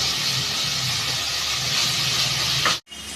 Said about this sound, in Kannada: ಸ್ವಲ್ಪ ಬೆಳ್ಳುಳ್ಳಿ ಪೇಸ್ಟ್ ಹಾಕ್ಕೊಂಡಿದ್ದೀನಿ ಸ್ವಲ್ಪ ಹಸಿ ವಾಸನೆ ಹೋಗೋವರೆಗೂ ಟ್ರೈ ಮಾಡಬೇಕು